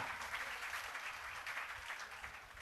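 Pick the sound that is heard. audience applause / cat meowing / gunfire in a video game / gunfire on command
audience applause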